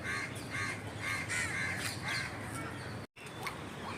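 Crow at a lakeside, cawing in a series of harsh, rhythmic calls, moderately near, over a constant low background hum, with a brief dropout near the end.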